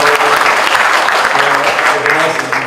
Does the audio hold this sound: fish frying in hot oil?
no